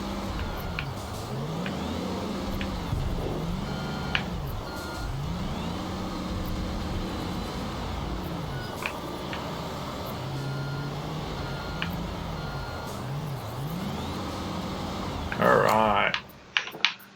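A construction truck in Construction Simulator reverses with steady rhythmic backup beeps over a rising and falling diesel engine drone, with a few clicks near the end.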